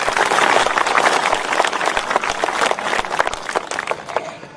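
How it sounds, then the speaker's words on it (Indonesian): A church congregation applauds, a dense, steady wash of many hands clapping that holds fairly loud and even across the whole stretch before easing slightly at the end. "Tepuk tangan untuk Tuhan, luar biasa."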